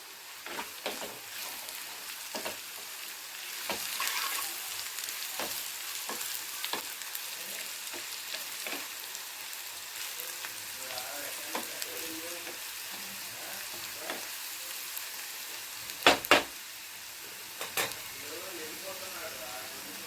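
Bitter gourd (kakarakaya) fries with chili powder in a pan, giving a soft steady sizzle broken by repeated scraping stir strokes and a couple of louder clatters.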